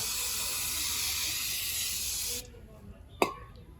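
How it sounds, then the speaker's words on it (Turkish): Brake cleaner sprayed onto a car's brake disc during a brake pad change, a loud close hiss lasting a couple of seconds, then stopping, followed by a short metallic knock. "son bir kez daha balata sprey ile temizliyorum"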